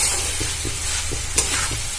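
Chhatu bati chorchori, a Bengali mushroom dish, sautéed in a pan: a steady sizzle with regular soft stirring knocks about every half second, one sharper scrape near the end, close and moderately loud.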